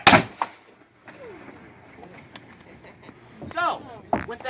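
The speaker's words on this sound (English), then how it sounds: "with that cannon salute, we'd like to welcome you here to Fort Mackinac" A ceremonial cannon fires a salute at Fort Mackinac on Mackinac Island, one loud, sharp boom at the start with a quick echo, followed by a person talking over quiet outdoor ambience.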